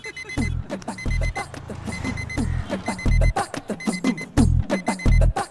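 An alarm clock rings in repeated bursts of beeping, loud and close, with low thumping pulses between rings.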